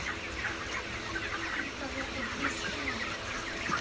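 Broiler chickens on finisher feed cluck steadily, a crowded chorus of soft, overlapping calls. The sound is close and moderately quiet and carries on throughout.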